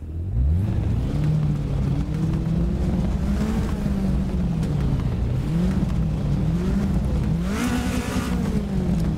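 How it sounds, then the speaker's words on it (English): Engine note of a Toyota Celica ST185 Group A rally car in the Assetto Corsa racing game, a steady loud drone with repeated revs rising and falling, sharp blips near the middle and end, no talk. "we're gonna test and listen to the engine note for a second"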